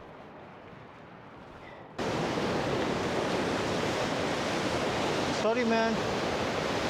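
A mountain river in Nepal rushes loudly in a steady, close roar of broad noise that jumps up sharply partway through, with a brief spoken phrase over it.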